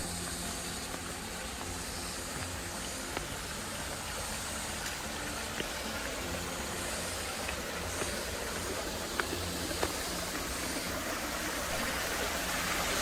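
A small waterfall in a stream under a bridge at a country park campsite gives a continuous broadband rush of falling water, steady and close with no voices.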